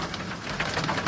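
Heavy rain mixed with bursts of hail at a border post in Kahla, a dense steady wash of falling water hitting surfaces with scattered brighter patters, continuous and fairly loud throughout with no talking.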